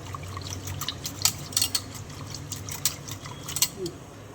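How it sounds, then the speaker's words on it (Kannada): Water pours into a thick, spicy curd bajji batter in a bowl, a low soft gurgle with scattered brief splashes and clinks, fairly close. "ಸ್ವಲ್ಪ ಸ್ವಲ್ಪ ನೀರು ಜಾಸ್ತಿ ಹಾಕೋಬಿಡಿ ಅಷ್ಟೇ ನೀರು ನೋಡಿ"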